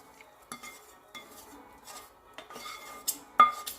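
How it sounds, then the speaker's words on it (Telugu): A spoon stirs tempering into cooked coconut rice in a pot, producing scattered metallic clinks and scrapes at an uneven pace, close and fairly quiet, with no voices. "వేసి ఒకసారి బాగా కలుపుకుందాం."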